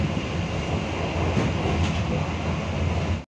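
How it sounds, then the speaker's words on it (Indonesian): Bengawan passenger train pulling out of Jatinegara station in Jakarta, a steady broadband rumble of rolling carriages heard from inside, with faint clicks and no talk, cutting off abruptly at the end. "KA Bengawan kembali diberangkatkan dari Stasiun Jatinegara, Jakarta jam 5:47."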